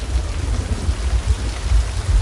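Steady rain falls in a video game, a loud, continuous hiss of downpour with a low rumbling undertone and no voices.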